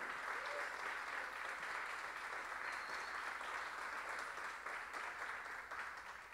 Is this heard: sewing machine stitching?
no